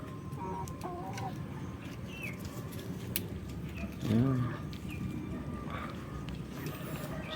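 Backyard breeder hens in a Philippine poultry yard give a brief, close clucking call midway through, set against a steady bed of outdoor noise and someone speaking in Filipino nearby.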